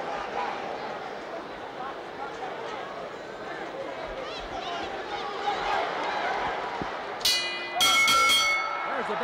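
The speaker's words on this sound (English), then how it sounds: "There's the bell. That's the end of round one." A boxing ring bell sounds at the end of round one of the 1974 Ali–Frazier heavyweight fight, a few bright clangs rising over steady arena crowd noise and a commentator's voice.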